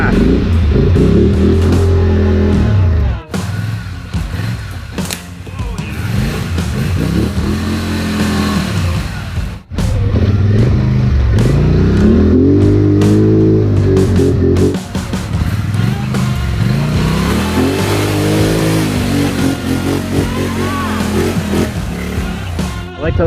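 A Polaris Sportsman 850 XP ATV fitted with a Dalton clutch kit powers through a muddy hole, its engine roaring loud and close, revs rising and falling with two brief dips.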